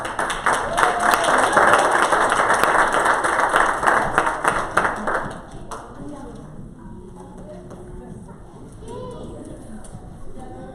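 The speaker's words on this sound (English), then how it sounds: "Clap it up for craft." A church congregation claps and cheers loudly for several seconds, then the applause fades out, leaving quiet room noise with a few faint sounds.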